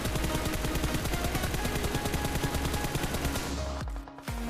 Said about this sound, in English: Here, I am shooting at 200 meters target while crouching.